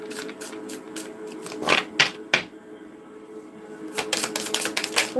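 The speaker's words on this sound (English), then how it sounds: "One shuffle." Tarot cards being shuffled, giving bursts of crisp riffling and snapping clicks, with a quieter pause in the middle before another quick flurry, close and alone.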